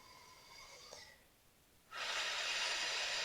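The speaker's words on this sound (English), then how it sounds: "take a deep breath" One deep breath is taken close to the microphone, a soft airy rush that starts after a short pause and holds steady to the end. Faint tonal sounds fade away just before it.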